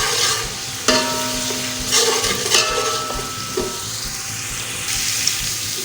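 Ginger frying in a pot while being stirred for beef nihari, a steady sizzle broken by several sharp scrapes and clinks of a spoon against the pot.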